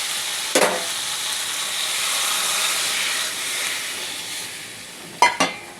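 Water poured into a pan of thick, well-cooked frying curry sets off a loud, steady hissing sizzle with steam, broken by a sharp clatter near the start and two brief knocks near the end.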